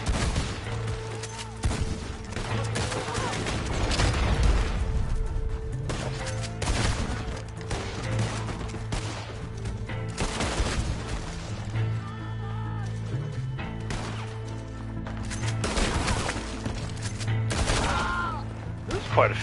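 Repeated gunshots in Red Dead Online ring out in scattered bursts over a steady low game ambience, moderately loud, with players talking intermittently throughout.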